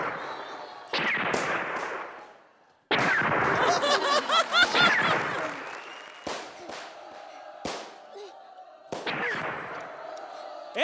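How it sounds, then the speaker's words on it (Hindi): Sharp gunshot sound effects crack out several times on a comedy stage show, loud isolated blasts breaking through audience noise and laughter. "अरे गोली का साउंड चलाओ ना"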